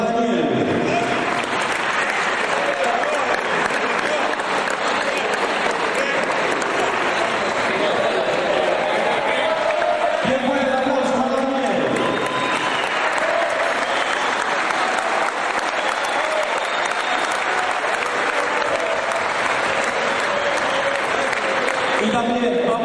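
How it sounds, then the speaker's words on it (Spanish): An audience applauds at a youth football season-closing ceremony: loud, sustained clapping from a large crowd with a voice heard over it and a brief dip midway. "Fuerte el aplauso para Daniel"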